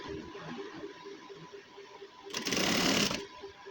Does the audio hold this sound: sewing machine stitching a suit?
yes